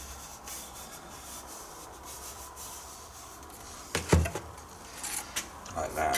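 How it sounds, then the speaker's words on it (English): Sandpaper rubs over the painted surface of a car's body coloured door mirror to remove loose paint and contamination, a soft, close scratching that comes in short strokes and grows a little louder toward the end. "I'm just going to remove any loose paint, any contamination on the surface."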